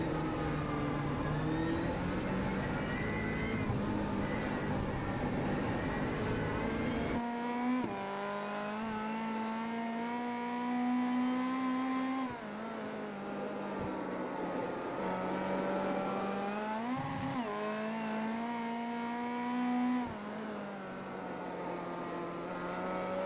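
Rallycross race car engine from on board at Lime Rock, a loud, close roar that climbs and drops through repeated gear changes and revving, running alone without talk.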